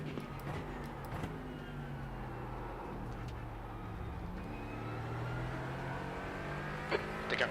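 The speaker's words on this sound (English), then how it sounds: "There's a faster car approaching" Race cars in an endurance racing sim drone steadily throughout, with rising and falling engine tones as a faster car closes in and passes, loud and continuous with no talk over it.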